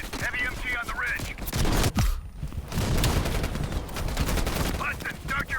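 A heavy machine gun on a ridge in a Call of Duty campaign fires loud, dense bursts that come in waves, mixed with battle noise and voices talking.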